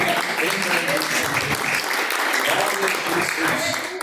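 A church congregation claps steadily in praise, a dense, sustained round of clapping filling the room, with voices mixed underneath.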